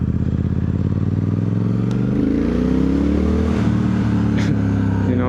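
Triumph Speed Twin 1200 parallel-twin engine pulling from low revs, its deep throbbing note rising steadily and loud as the bike accelerates along small country roads.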